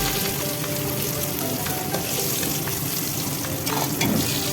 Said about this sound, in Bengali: আমার মাছ ভাজা কমপ্লিট